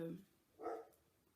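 A single short dog bark at moderate distance, heard once amid quiet room tone, with a brief voice just before it.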